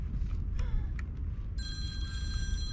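A mobile phone rings with a steady electronic tone that begins partway through, heard over constant low wind and water noise outdoors during sea fishing.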